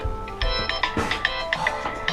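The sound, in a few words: phone ringtone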